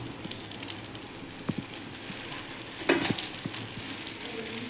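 A rava bun dosa fries in a pan with a little oil, producing a quiet continuous sizzle with occasional light taps and one louder scrape.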